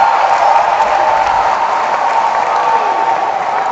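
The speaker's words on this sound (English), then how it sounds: "And the crowd applauds that one." A badminton arena crowd applauds after a long rally in the Asian Championship 2020 final, a loud, steady wash of clapping that holds evenly throughout.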